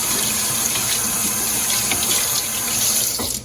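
Tap water runs steadily into a sink while soap is lathered in 18-grain hard water, a continuous close hiss and splash throughout with no talk.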